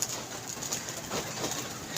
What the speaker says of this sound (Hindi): देख लो जी बातों बातों में कबूतर आके बैठ गया